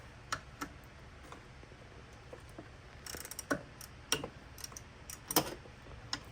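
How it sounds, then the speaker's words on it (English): Sharp ratchet clicks come in short, irregular bursts as a wrench loosens the T40 Torx bolts on the power steering of a BMW 335d, close and fairly quiet against faint background noise. "now we can start loosening up these T40 on this power steering"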